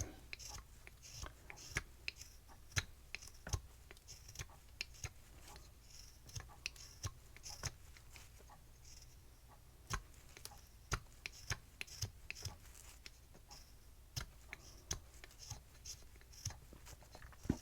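Carving knife paring wood on a beginner owl carving, a quiet close series of short scraping ticks and slices in an irregular rhythm, faint and alone without talk.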